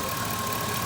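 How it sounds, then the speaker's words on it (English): Car engine cranking over during a battery tester crank test, a dense steady mechanical churn filling the short moment with no pauses or voices. "it cranks this engine normally"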